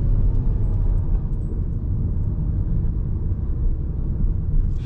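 A Volkswagen Golf R Mk7 in sport mode accelerates hard, its engine a heavy, steady rumble heard from inside the cabin.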